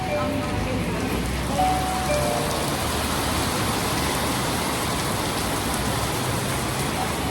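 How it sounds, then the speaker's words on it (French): Heavy tropical downpour on Koh Samui, a dense, steady roar of rain hissing close by without pause, with faint background murmurs beneath it. "Il pleut de fou furieux."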